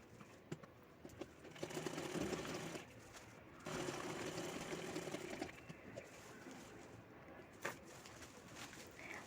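A sewing machine stitches a lining to the zip sides of a handbag made from a khan saree pallu, running in steady stretches that start and stop, while pigeons coo faintly in the background.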